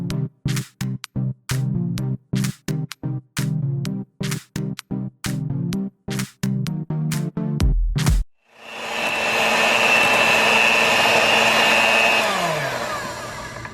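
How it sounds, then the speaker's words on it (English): An electric hand mixer whirs as it beats no-bake cheesecake filling. It cuts in and out in short, rapid bursts, then runs as a steady, loud drone for several seconds before it switches off. No voices are heard. "So this mixer is the worst hand mixer known to man"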